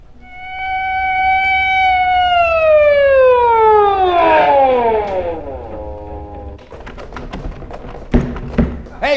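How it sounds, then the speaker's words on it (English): An ambulance siren sound effect in a comedy skit wails loudly in long falling tones, then cuts off into thumps and taps, with a voice starting up at the end. "Hey, you the guy who called for the ambulance?"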